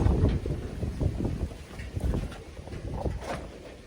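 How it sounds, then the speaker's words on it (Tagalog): Gusty wind buffets the microphone in uneven, rumbling low bursts throughout, loud and close with no one speaking. "Lakas ng hangin."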